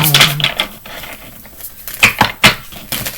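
Tarot cards shuffled by hand in a quick, papery patter of small taps and soft broadband bursts, uneven and close, louder near the end, with no voice.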